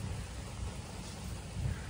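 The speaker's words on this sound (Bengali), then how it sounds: "এইরকম বৃষ্টি পড়ছে, বিদ্যুৎ চমকাচ্ছে" Rain falls at a hillside homestay in Dawaipani near Darjeeling during a storm. It makes a soft, steady hiss, and a faint low thunder rumble swells near the end.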